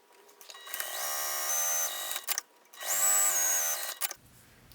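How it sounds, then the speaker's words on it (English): An electric sewing machine top stitches a bag strap, its motor whirring in two steady runs with a short pause between, close and alone. "After this dries, the next thing I'll do is I will top stitch down the long edge"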